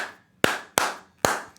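Three sharp, close hand claps in a slow, slightly uneven rhythm, each with a brief ringing decay, in an otherwise quiet space.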